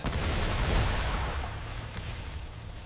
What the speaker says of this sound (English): the distant sound of explosions reminds us the front line is close